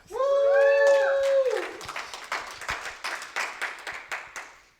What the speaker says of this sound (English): I just wanted that round of applause.